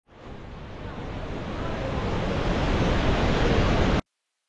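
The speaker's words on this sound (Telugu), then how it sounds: "భీమ్ పూల్ ఇదే అండి. వాటర్ ఫ్లో ఎలా ఉందా?" River water rushes beneath Bhim Pul, the natural rock bridge near Mana village at the origin of the Saraswati River, a loud continuous roar that swells slightly before cutting off abruptly.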